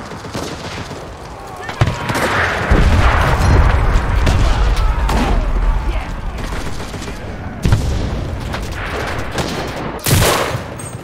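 Gunfire in the video game Enlisted, loud bursts of rapid shots and heavy booms, sustained rumbling fire with sharp cracks, while someone talks over it.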